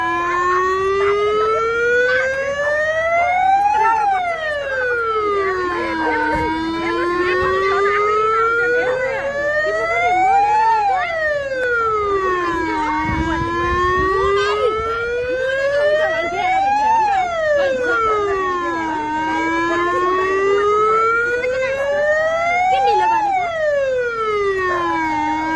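A fire engine siren wails in long rising and falling sweeps, each cycle about six seconds, loud and continuous throughout, arriving at night to put out a burning straw pile near a house in Kapilvastu.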